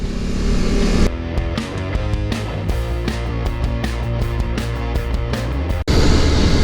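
A BMW F 850 GS Adventure (2019) motorcycle ridden along a tight, twisty road, its engine note rising and falling steadily through the bends, close and loud throughout.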